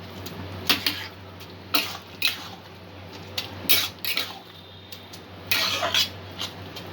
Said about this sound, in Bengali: সব কিছু ভালো করে একটু মিক্স করে দেব।